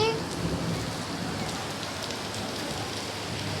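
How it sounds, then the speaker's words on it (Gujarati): Steady heavy rain patters and hisses densely on surfaces nearby, a continuous even wash of sound with no clear breaks. "વરસાદભાઈ ધબધબાટી બોલાવે છે."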